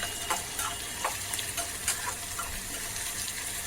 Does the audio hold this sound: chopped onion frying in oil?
yes